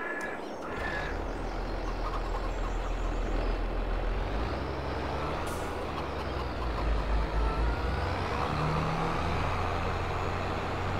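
A John Deere tractor engine runs on a farm in the morning, giving a steady, loud low rumble that holds throughout, with a brief hiss partway through and no talking.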